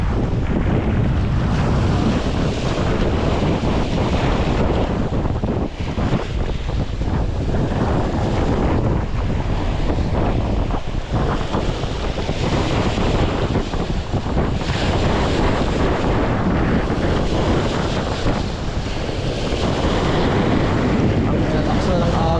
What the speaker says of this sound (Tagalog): Lakas na ng agos. Lakas ng alon.